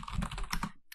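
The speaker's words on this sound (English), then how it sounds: "So when you keep typing the wrong password," Rapid computer keyboard typing at close range, a dense run of loud keystrokes that stops abruptly, followed by one last click, while a wrong password is entered repeatedly.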